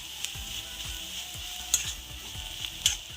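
Onion and crushed chili fry in hot oil for a Kerala pappadam thoran, giving a close, soft sizzle with quick crackles and a few sharper pops.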